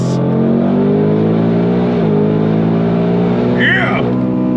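A Ford Mustang Dark Horse tuned by Hennessey to H850 spec pulls hard under throttle, its engine drone loud and close and rising in pitch, with a brief shift partway through and a squeal near the end.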